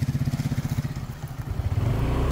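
A motorcycle engine runs close by with a rapid, throbbing putter that pulses evenly, then rises slightly as it picks up revs, with rattling and road noise around it and no speech.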